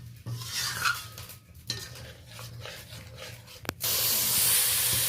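A spoon stirs a watery spice paste in a pan of hot oil for an egg and potato curry, scraping and clinking unevenly, then a loud, steady sizzling hiss takes over.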